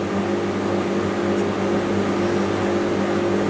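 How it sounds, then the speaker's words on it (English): Traffic passes overhead as a constant, low droning rumble, steady and unbroken throughout with no distinct individual vehicles standing out. "That must be traffic up there."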